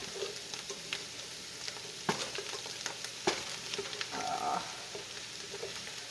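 Turkey bacon stirs and fries in a pan with a busy, crackling sizzle, sharp spatula scrapes and knocks standing out now and then, heard up close.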